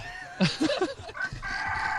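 A rooster at a cockfight gives a short burst of harsh crowing and clucking calls close by, over a low background murmur, then the noise settles into a steady hum.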